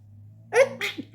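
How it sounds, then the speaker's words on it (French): A single close, loud human sneeze erupts over a low steady hum, trailing into a short exhale. "Oh, j'ai éternué."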